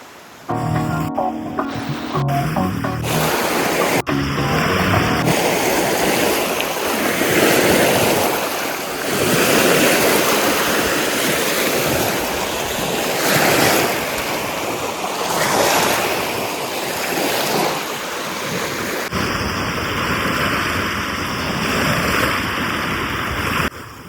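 Waves splash steadily against the shore of reservoir backwaters, a loud, continuous surf-like wash with rolling surges and wind buffeting the microphone, and no voices.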